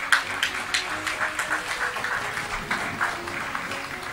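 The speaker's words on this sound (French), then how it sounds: "Je vous demande d'applaudir bien fort le maître international bordelais" An audience applauds a Bordeaux international chess master at a Grand Prix semifinal event. The clapping is moderate and somewhat muffled, with a steady, rolling texture and no speech.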